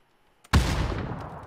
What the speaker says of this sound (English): Decided to go ahead and throw a nade over there in that area.